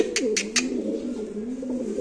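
A pair of fancy pigeons coos in low, rolling, continuous calls close by, with a few sharp brief bursts near the start.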